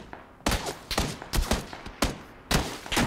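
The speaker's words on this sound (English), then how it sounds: "there's a guy right there shooting at me" Gunfire in PUBG: several loud, close bursts of shots in quick succession, each a sharp crack with a short tail, separated by brief gaps, with no talking.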